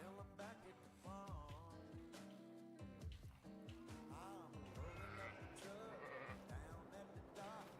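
Sheep in a farming video game bleating repeatedly in a busy overlapping chorus, wavering calls coming one after another, faint overall, with game background sounds running underneath.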